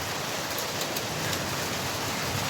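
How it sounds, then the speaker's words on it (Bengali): Steady rain falls around an open rooftop with green trees nearby, a dense, even hiss of drops on surfaces that continues without a break at moderate loudness and carries no voices. "দেখেন মাশাআল্লাহ কত সুন্দর বৃষ্টি হচ্ছে।"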